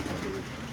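Young racing pigeons in a loft at dusk give a soft, brief coo, faint and close, over a low background hiss.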